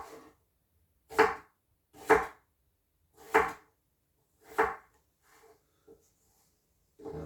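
A knife slices ginger finely for sauerkraut on a cutting board, giving four distinct, evenly spaced crisp chops followed by a few softer taps, close and quiet, with no talking.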